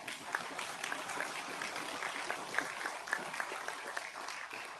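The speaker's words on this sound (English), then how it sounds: "Next up, let's give those students a round of applause." Board meeting audience applauding students, a steady wash of scattered clapping with a few sharper individual claps standing out, moderately distant and lasting throughout.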